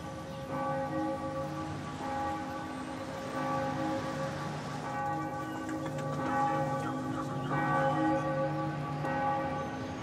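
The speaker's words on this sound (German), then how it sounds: "unter dem Geläut der Glocken der Stadt" City church bells peal across Plaza de las Armas in Sucre, Bolivia, a sustained, overlapping ringing of several bells that carries on steadily with a faint hiss beneath and no speech.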